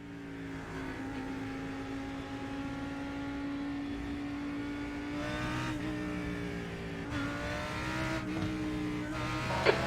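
A GT race car in a racing game accelerating at the race start at Monza. The engine rises steadily in pitch through repeated gear shifts, with other cars roaring close by and a sharp knock near the end.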